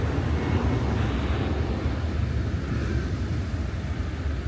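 A low, steady roar of an airplane passing overhead near a beachside restaurant in Bali, broad and continuous, with wind and outdoor noise around it.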